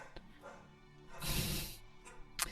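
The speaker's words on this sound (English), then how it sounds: "the dog is barking" A dog barks indoors in a few short, yipping bursts, faint and somewhat distant, with quiet background between the barks.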